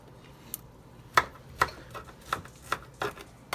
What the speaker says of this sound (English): Look at the chopping of the garlic.